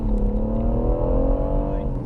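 A BMW 140i and a BMW 135i accelerating side by side in a drag race. A steady engine roar climbs gradually in pitch over two seconds, close and loud.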